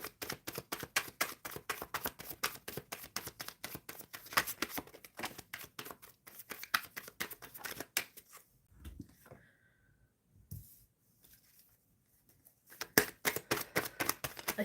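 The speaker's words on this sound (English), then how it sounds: "Spirit, I'm shuffling for Jeebus, who's looking for a stable job." Tarot cards are shuffled in rapid riffling bursts, crisp repeated flicks close up, pausing briefly in the middle before the shuffling resumes.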